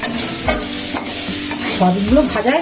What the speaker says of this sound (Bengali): একটা দিয়ে ভাজি খুব সুন্দর করে সয়াবিনগুলো দিয়ে দিই